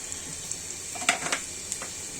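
Whole spices for khichdi, black cardamom, star anise and white cardamom, dropped into hot oil, giving a steady close sizzle with a few brief crackling spits.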